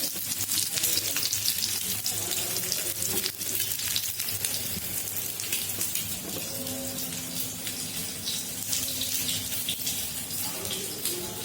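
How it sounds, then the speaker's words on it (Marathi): Eggs for a dhaba-style anda masala frying briefly in a pan, a steady close sizzle with faint kitchen clinks and no talk. "फक्त असं थोडंसं फ्राय करून घ्यायचं"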